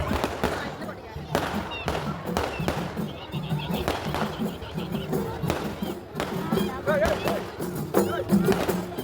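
Fireworks at a nighttime festival procession in Kondotty, Kerala, with repeated sharp bangs and crackling bursts mixed with crowd noise and people talking.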